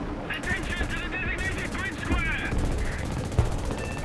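Machine gun fire from a War Thunder battle, dense rattling bursts with ricochets and impacts kicking up dirt, steady and fairly loud throughout with busy combat noise layered underneath.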